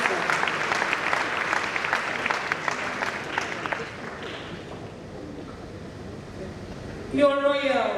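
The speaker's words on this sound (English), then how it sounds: "Let's clap for Nana Chancellor." An audience at a university's 75th anniversary ceremony gives a burst of dense clapping that fades after about four seconds, followed by quieter crowd noise and a voice speaking at the end.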